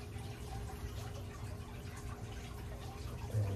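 Oil drains from a Generac 22kW home standby generator, a faint steady trickle under a low hum, quiet and continuous with no speech.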